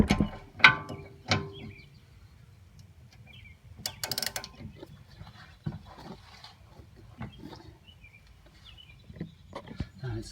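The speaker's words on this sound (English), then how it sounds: "I put a pipe extension on my ratchet to give it a little more leverage, and then now I got it loose" Ratchet fitted with a pipe extension working a sway bar end link nut loose on a BMW X5 E70, scattered clicks and clunks with sharp metallic ratcheting bursts, close, separated by quiet gaps.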